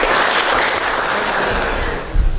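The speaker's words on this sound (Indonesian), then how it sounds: "Berikan aplaus untuk beliau." Audience applause at an election supervision outreach event in Brebes, a sustained, dense wash of clapping that fills the room throughout, with a brief louder burst near the end.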